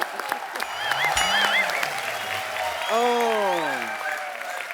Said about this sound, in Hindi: डॉक्टर साहब के लिए जोरदार तालियां